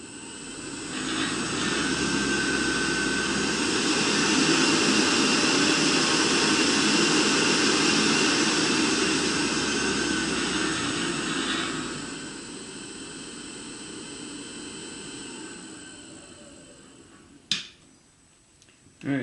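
A 6-inch drive wheel on a 2x72 belt sander motor spins up to 4,900 RPM with a steady, smooth whir, then winds down and fades, followed by a couple of sharp clicks near the end.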